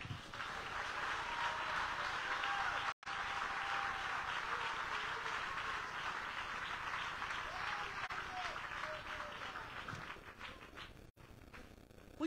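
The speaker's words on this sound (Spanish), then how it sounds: "Dele un aplauso a Dios." A church congregation claps together at length during a sermon, a continuous wash of many hands applauding for several seconds, with voices heard beneath and among the clapping.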